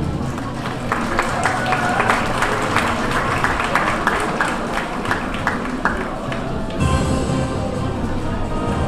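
Loud, steady crowd applause and cheering fills the space continuously, a dense wash of clapping from a large audience at a cosplay contest.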